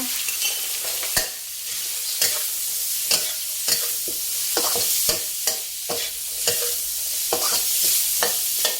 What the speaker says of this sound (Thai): รวนหมูจนเริ่มสุกนะคะ ก็จะใส่ถั่วฝักยาวลงไปเลยค่ะ